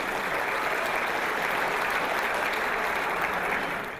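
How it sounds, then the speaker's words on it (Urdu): Steady, dense audience applause at an Urdu mushaira poetry gathering in Doha, Qatar, welcoming the first poet, continuing evenly before tapering slightly at the end. "آپ حضرات ڈھیر ساری تالیوں میں آج کے پہلے شاعر ڈاکٹر وسیع بستوی کا استقبال فرمائیں"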